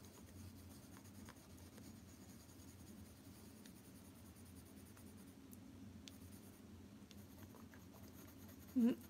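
A white colored pencil scratches steadily across paper during a coloring session, a soft, close, continuous rubbing with faint pencil-stroke patter and no talking.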